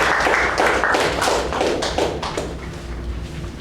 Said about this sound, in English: Please put a big round of applause for the education team.